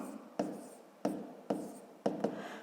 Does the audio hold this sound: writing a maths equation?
yes